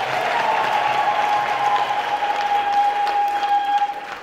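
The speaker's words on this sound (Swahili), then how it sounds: "Tumshangilie Mungu wa makofi na vigelegele" A Tanzanian church congregation at Mass bursts into sustained applause and a long, shrill ululation that rings above the clapping, loud and close, then tails off at the end.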